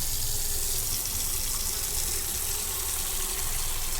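Water gushes steadily from a tap into a container in the Autopsy Simulator game, a loud, constant, unbroken rush with no voices.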